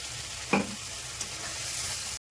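Ginger, green chili and tomato paste dropped into hot oil, a steady close sizzle with one sharp clank near the start, ending abruptly.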